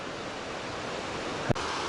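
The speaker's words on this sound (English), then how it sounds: "now we are to this magnificent waterfall" A large waterfall on a backpacking trail in Dolly Sods pours in a steady, even rush of white noise, heard at moderate distance, with a single short knock partway through.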